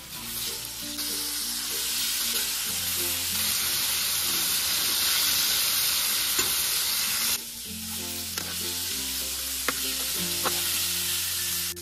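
Chicken feet deep frying until crispy give a steady, loud sizzle and crackle of hot oil. It runs throughout with some stirring and clinks of a utensil, and the texture shifts midway.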